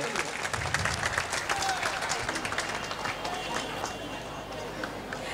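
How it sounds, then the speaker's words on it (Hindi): Dense, steady applause from a crowd at a dance academy event fills the clip, with clapping continuing throughout at an even level. "एक बार जोरदार तालियां बजाइए दोस्तों इनके लिए।"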